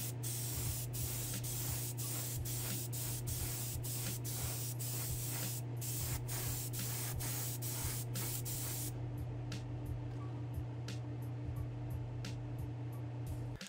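Steady hiss of clear coat spraying onto a car model, continuous and fairly quiet for the whole stretch with faint regular ticks throughout and no talking.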